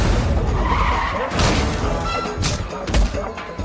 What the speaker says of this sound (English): Oh, and tire screeching.